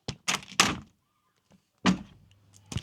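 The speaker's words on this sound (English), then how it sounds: "We're going to attempt to open the door again." A hotel room terrace door at Disneyland Paris's Newport Bay hotel is opened: several thuds and rattles near the start, a pause, then another firm clunk and a final knock, close and fairly loud.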